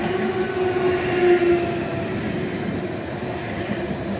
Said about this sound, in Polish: zbliża się Elf SKM